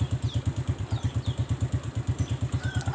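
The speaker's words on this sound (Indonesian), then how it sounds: "Kita hidupkan mesin, kita nyalakan" A Suzuki motorcycle engine idles after being started, producing a steady, evenly spaced low thumping pulse with light mechanical clatter, close and fairly loud, with faint higher ambient sounds in the background and no speech.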